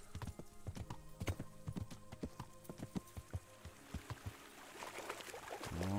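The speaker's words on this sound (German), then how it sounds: "schön sanft durch das Wasser, nicht dass das arme Pferd scheu wird" Horse hooves splashing and clopping through shallow water in the video game Kingdom Come: Deliverance, a quiet, steady rhythm of hoof steps with faint water sloshing, ending in a brief burst of splashing.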